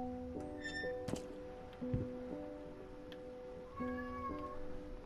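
A cat meows a few times in the video game Layers of Fear, over a quiet ambient tone of sustained musical notes, with occasional soft thumps.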